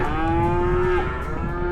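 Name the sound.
cattle mooing in stockyard pens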